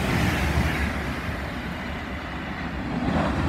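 Train passing through Watford Junction on the West Coast Main Line toward Euston, a steady rumbling roar of wheels and carriages throughout, fairly close and without speech.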